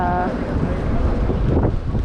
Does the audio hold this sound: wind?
yes